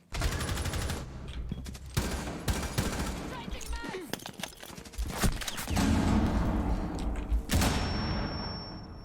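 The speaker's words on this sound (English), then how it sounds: "Why are you shooting me" Gunfire in Rainbow Six Siege, dense bursts of close, loud shots in rapid clusters with brief pauses, ending in a sharp final volley and a lingering high ringing tone, with a voice speaking between shots.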